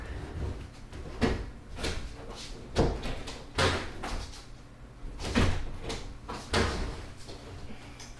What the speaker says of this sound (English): This door doesn't close.